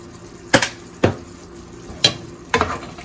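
Kielbasa and sweet peppers with ground thyme and ginger stirred in a pan, four sharp spoon scrapes and knocks at an even pace over a soft sizzle.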